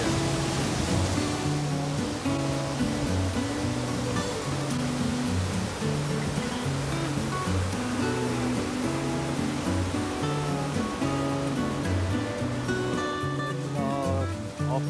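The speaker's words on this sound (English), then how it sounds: "There's lots of water coming down from this area." Flood water in the Crocodile River near Dullstroom after Tropical Storm Eloise rushes in a steady, dense roar that stays loud and unbroken for the whole stretch, with a faint repeating low hum beneath it.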